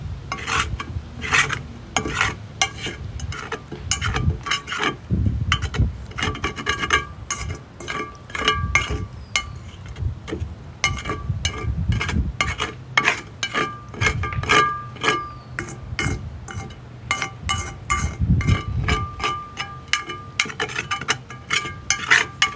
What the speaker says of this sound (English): So I was going to get all this stuff off the bottom here before it solidifies.